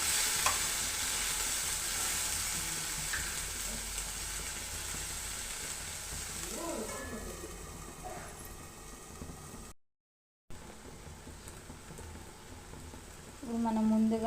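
Chopped tomato frying and being stirred in a pan for chukkakura (sorrel leaf) chutney, a steady sizzle with scraping stirs, a brief gap partway through and a rising tone near the end.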